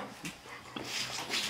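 A dog whimpers softly and pants in quick breaths, a few short whines rising over the panting at close range, with no talking.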